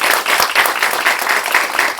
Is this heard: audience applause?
yes